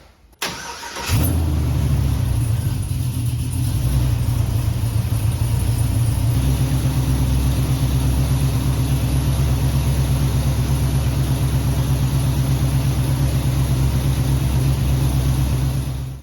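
A Chevrolet C10 truck engine cranks and fires after a brief quiet moment, then settles into a steady, loud, continuous idle that holds for the rest of the stretch with no talking.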